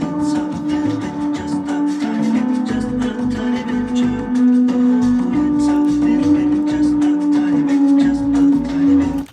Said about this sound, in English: So I have an old Ambica Mutable Instruments Ambica synth,